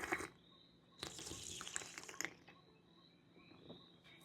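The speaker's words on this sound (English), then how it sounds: "So let's have a slurp." Someone slurps JingMai white tea, a quiet airy sucking of liquid lasting about a second, heard close with no voices.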